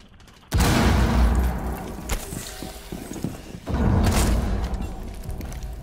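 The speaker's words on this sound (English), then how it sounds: "Throwing frag grenade." Two heavy broadband blasts from a frag grenade and gunfire in the video game Rainbow Six Siege, one sharp and loud near the start and another a few seconds later, with rumbling crackle carrying on between them.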